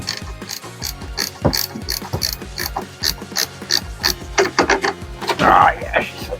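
A wrench ratcheting while a part is removed during a diesel heater install, a close, rapid series of clicking ratchet strokes in uneven bursts, with metallic clunks and scraping mixed in.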